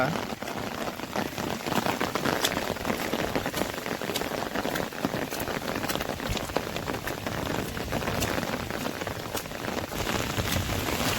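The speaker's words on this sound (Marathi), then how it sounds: "बऱ्यापैकी पाऊस लागलो थोडा वेळ लागलो पण तो भरपूर लागलो" Steady, stormy rain pattering on a surface, dense and continuous with scattered louder drops, fairly close, no talking.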